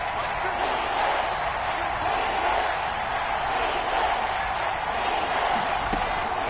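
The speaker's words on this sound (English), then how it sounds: "This red zone is where the Seahawk crowd really makes it tough for an offense to communicate" Roaring Seahawks home stadium crowd in an American football video game, a dense, steady, loud wash of cheering noise that never lets up, with commentary voices over it.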